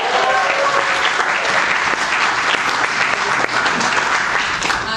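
An audience at a spoken-word poetry finals event claps and cheers for the sponsors. Dense, continuous applause fills the room at steady volume, with a few whoops mixed in.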